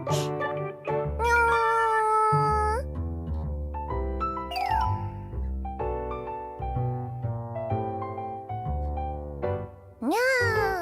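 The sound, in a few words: cat meowing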